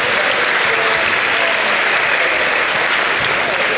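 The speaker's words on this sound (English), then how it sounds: "give a quick round of applause." A quick round of applause from participants in a group training activity, dense and loud, a steady wash of many hands clapping together without a break.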